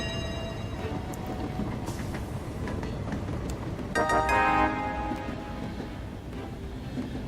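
A train runs on rails in the video game Train Valley, a steady rolling rumble throughout with a brighter metallic clatter swelling midway before easing back.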